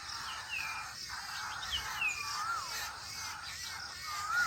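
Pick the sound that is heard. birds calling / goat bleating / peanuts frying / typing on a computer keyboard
birds calling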